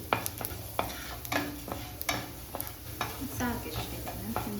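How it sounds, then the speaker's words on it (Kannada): Cumin seeds sizzle softly in a pan while being stirred for a Mangalore chicken curry, with quiet frying hiss and intermittent clinks and scrapes of a spoon. "ಜೀರಿಗೆ ಸ್ವಲ್ಪ ಇದನ್ನು ಹಾಕಿ ಸ್ವಲ್ಪ ಫ್ರೈ ಮಾಡಬೇಕು."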